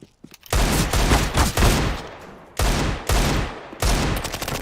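Rapid bursts of automatic gunfire ring out in a Counter-Strike pro match between G2 Esports and Astralis, loud close volleys in three or four clusters separated by brief gaps.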